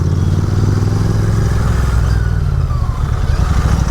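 A Moto Morini GT motorcycle ridden and weaving through traffic, its engine giving a steady, loud, close drone with a constant low rumble and no talk.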